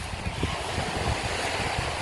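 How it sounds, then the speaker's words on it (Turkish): Strong evening wind on the Datça coast buffets a nearby microphone with a constant rushing roar, and there's a hint of surf in the background. "Akşam saatleri biraz rüzgarlı."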